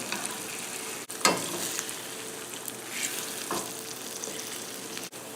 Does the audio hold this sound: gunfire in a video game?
no